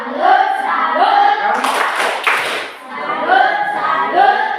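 Classroom pupils clap a short rhythmic cheer pattern, a burst of sharp hand claps in the middle framed by children's chanting voices before and after.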